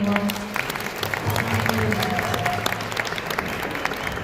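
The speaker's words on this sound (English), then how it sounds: "So one more round of applause for" An audience at a Dominican Independence celebration in Queens applauds steadily, a moderate, continuous patter of clapping with a voice talking over the start.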